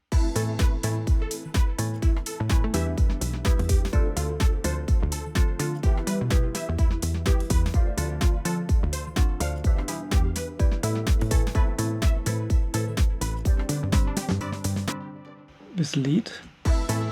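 A synthesizer lead plays over a fast, steady arpeggio pattern with punchy rhythmic notes, loud and dense. It runs continuously, then drops out near the end as a person begins to speak.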